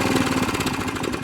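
A Qualcast Suffolk Punch 14S cylinder lawn mower engine runs at full throttle, a loud, close, steady buzzing drone, though it is not revving as hard as it should while the roller and blade fail to move.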